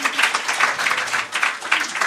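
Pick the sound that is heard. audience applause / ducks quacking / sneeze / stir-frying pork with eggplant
audience applause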